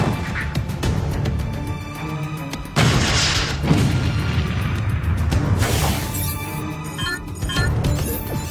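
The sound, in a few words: bazooka blast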